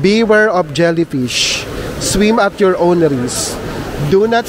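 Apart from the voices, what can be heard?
No everyday noise stands out behind the speech.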